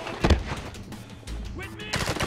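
Gunfire from the video game 007 Blood Stone comes in short, sharp bursts of shots under shouted voices, close and loud, with another burst near the end.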